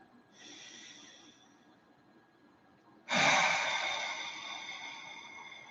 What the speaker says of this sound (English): Everybody breathe. And just breathe.